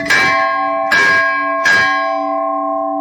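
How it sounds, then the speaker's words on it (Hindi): A large temple bell at Danda Nagraja, Pauri Garhwal, struck three times in steady succession, each strike ringing out with a long, sustained metallic hum. "इस तरह के घंटे बांधते हैं जिनकी की आवाज़ बहुत"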